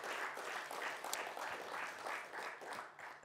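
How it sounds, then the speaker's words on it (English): Faint, fairly distant audience applause at a book awards ceremony, steady pulsing clapping from a crowd throughout, with no voices over it. "So a round of applause for Sonny Rollins."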